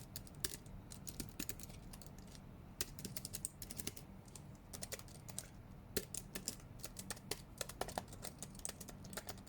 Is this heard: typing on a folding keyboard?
yes